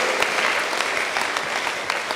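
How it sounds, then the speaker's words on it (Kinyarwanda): Church congregation applauding its pastors during a worship service in Kigali, dense steady clapping from many hands throughout, loud and continuous. "A round of applause for our pastors."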